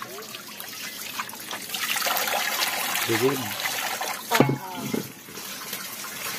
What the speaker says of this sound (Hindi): उसमें पानी भर रहा है